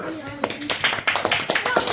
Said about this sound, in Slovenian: En aplavz za vse, prosim.